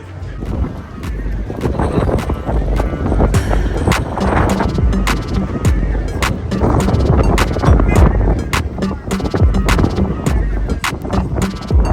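Strong, non-stop wind on a Greek island at the windmills blasts the microphone, making loud, continuous buffeting roar with sharp gusty thumps throughout.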